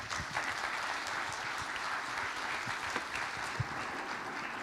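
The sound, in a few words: audience applause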